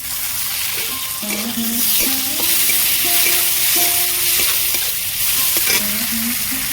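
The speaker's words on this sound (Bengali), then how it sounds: "পেঁয়াজ লঙ্কা আমি ভালো করে ভেজে নিয়েছি" Chopped onions and green chillies frying in a pan for a fish curry, stirred steadily: a constant close sizzle broken by squeaky, scraping spatula strokes on the metal, with no voices.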